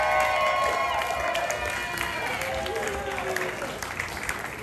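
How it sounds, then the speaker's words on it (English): A dance-battle audience claps and cheers for three solo jazz finalists, a dense, steady wash of applause with whoops and shouts layered over a lively crowd. "Let's get a big round of applause for all three of our finalists here"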